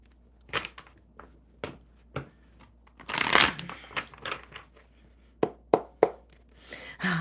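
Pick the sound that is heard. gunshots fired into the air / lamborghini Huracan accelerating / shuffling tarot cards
shuffling tarot cards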